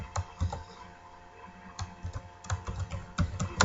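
Keys tapped on a computer keyboard while writing program code, in scattered quick bursts of clicks with short pauses, close and fairly quiet, with no talking.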